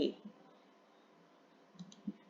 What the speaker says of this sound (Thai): กดเมาส์ขวาค่ะ เลือก Copy